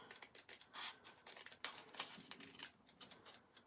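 Scissors snip a slot into a card gift card holder, with quiet, crisp cuts coming in an uneven series close by.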